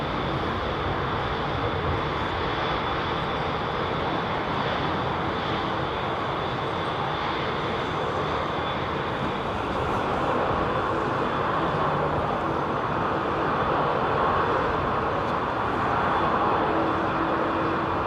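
A British Airways Boeing 787-10 airliner at London Heathrow Airport gives off a steady, loud jet roar that holds unbroken and swells slightly toward the end, heard alone without voices.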